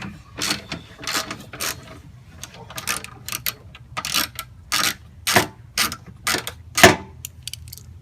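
Ratchet loosening bolts on a car's PCM, a series of short broadband ratcheting bursts in uneven rhythm, close and moderately loud, with one sharper metallic clack near the end.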